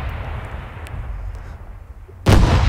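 In the space strategy video game Star Drive, after a low rumbling stretch with a few faint ticks, a heavy bombardment blast booms out near the end, loud and sudden like artillery fire.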